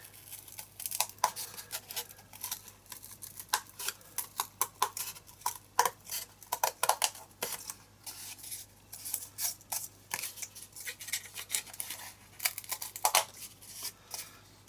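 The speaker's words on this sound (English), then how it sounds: "just trim it out." Scissors trim carefully around dried handmade artwork for an art tag, giving a long run of close, crisp snips and paper rustles in uneven bursts, with no talking.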